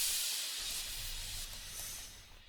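A bright cymbal crash washes out into a long hissing decay, loud at first and fading over a couple of seconds.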